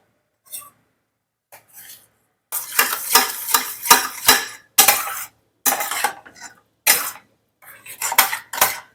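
Bursts of scraping and stirring in a pot as a spoon mixes cooked rice into jaggery syrup for sweet pongal, working the thick food in irregular strokes with short pauses between, close and fairly loud.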